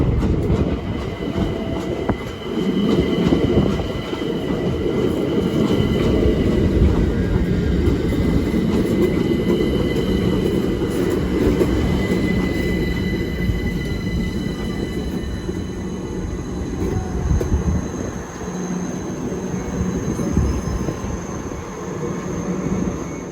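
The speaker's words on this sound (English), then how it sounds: "The 1631 Mildmay line from Stratford to Clapham, 378221." A Class 378 train on the Mildmay line from Stratford to Clapham passes close by with a loud, sustained rumble and rattling wheels on the track, swelling and then easing slightly as it goes, with no talking.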